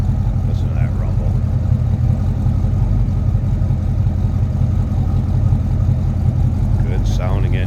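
A 1969 Chevrolet C10 pickup engine idling from behind the truck, a steady low rumble that runs throughout with a couple of brief high chirps on top.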